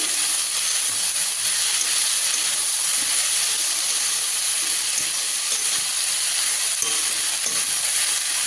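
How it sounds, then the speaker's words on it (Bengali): Water spinach sizzles loudly in a hot pan while being stir-fried, a dense, continuous frying hiss that holds steady throughout, with faint stirring scrapes and no talk. "কলমির শাকটা দেখুন নাড়াচাড়া করতে করতে কতটা কমে এসছে আর অনেকটা নরম হয়ে গেছে"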